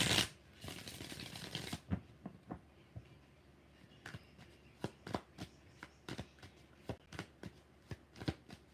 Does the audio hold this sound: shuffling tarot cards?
yes